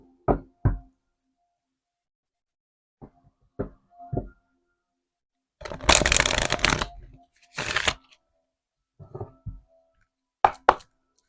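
Tarot cards are handled for a reading: scattered soft taps and knocks on a table, then two brief riffling shuffle bursts, followed by a few more light taps in an otherwise quiet room.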